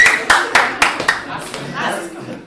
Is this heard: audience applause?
yes